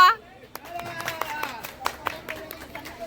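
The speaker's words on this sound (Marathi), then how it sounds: "हे टाळ्या तरी वाजवा" Guests at a baby shower clap in a few loose, uneven bursts that begin softly and pick up, with people chattering and talking nearby throughout.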